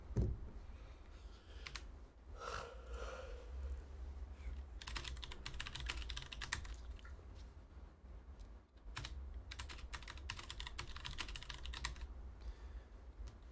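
Computer keyboard typing, bursts of quick close clicking keystrokes separated by short pauses, with a low steady room hum underneath and no talk.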